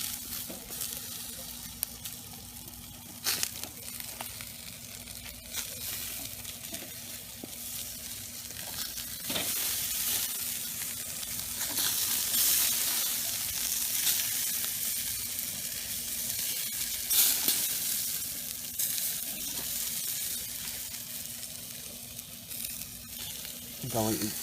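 Wild duck grilling on a lidded grill sizzles steadily and loudly throughout, with occasional clinks and scrapes of tools as the pieces are turned, and some talk over it.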